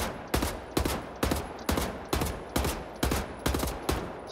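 Rapid gunfire from Wolfenstein: The New Order, eight loud evenly spaced shots about half a second apart, each with a sharp crack and short decaying tail, no talk.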